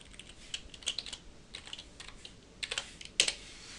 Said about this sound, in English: if you start typing in more letters